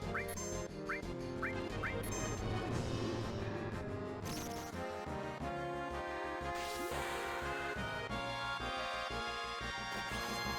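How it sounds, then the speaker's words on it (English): Ducks quacking in the video game Final Fantasy VII, several short quacks near the start over dense, loud game music that continues throughout. "No, it's just these goddamn silly ducks here."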